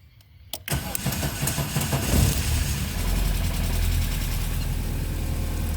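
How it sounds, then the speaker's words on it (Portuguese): Ford Versailles/Santana car with EEC-IV EFI fuel injection cranking briefly, then catching and settling into a steady, loud, close idle that holds to the end. "Agora eu vou dar partida e a gente vai poder ver a evolução dos sinais conforme o motor esquenta."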